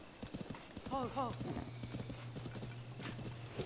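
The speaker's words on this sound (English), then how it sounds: "Go, horse, go!" Rhythmic hoofbeats of a horse galloping in Zelda: Tears of the Kingdom, the clip-clop mixed with a brief whinny-like call, game tones and background sounds, with a person talking over it.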